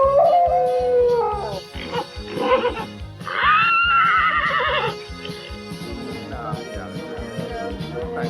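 A puppy yips and howls in rising, wavering cries, close and fairly loud, with short barks between the howls.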